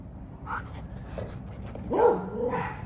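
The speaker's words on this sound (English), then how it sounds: "Oh, gotta go bark at the doggies." A dog barks and whimpers nearby, with a short yip early on and a louder, drawn-out bark-whine toward the end, heard alone over quiet background.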